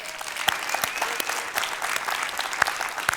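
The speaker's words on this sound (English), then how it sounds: "can we give them a round of applause?" A church congregation claps for volunteers, a steady, moderately loud round of applause filling the room, with a few crisp individual claps poking through the wash.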